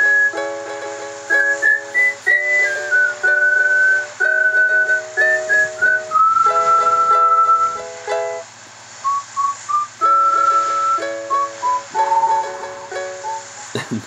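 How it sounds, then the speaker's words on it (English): A clear, melodic whistled tune plays over a steady background music loop in Animal Crossing: New Leaf, on the way to Club Tortimer, phrases rising and falling with short pauses between them. "He just whistles it."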